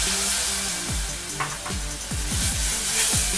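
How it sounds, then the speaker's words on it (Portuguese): Wine poured a little at a time into browned beef fillet in a hot pan, setting off a loud steady sizzle with spoon-stirring scrapes throughout, no voices. "Agora nós podemos acrescentar aos poucos o nosso vinho."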